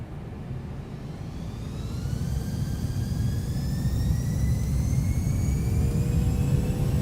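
Airbus A340-300 jet engines spooling up for takeoff in Microsoft Flight Simulator, a steady loud roar with rising whine tones that builds gradually and holds, with no talking.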